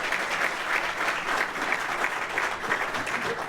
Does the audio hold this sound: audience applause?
yes